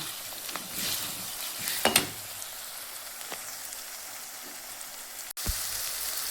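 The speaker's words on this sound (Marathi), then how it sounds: "हे असा कांदा ब्राऊन झाला ना की मग हिरवी मिरची लसूण अद्रक टाकलं आहे" Onion, green chili, garlic and ginger fry in a pan with a steady close sizzle, a few scraping stirs and a sharp knock near the end.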